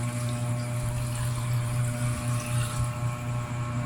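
Purified water pours steadily into a cooking pot, giving a continuous rushing, splashing stream with a low hum beneath it and no talking.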